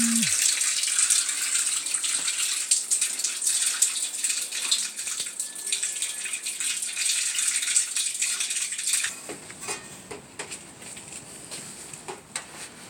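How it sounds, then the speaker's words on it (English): Water gushes steadily from the drain of a Rheem natural gas water heater, a loud continuous splashing rush that drops abruptly to quieter trickling and dripping near the end. "So now I have to drain the water out from here."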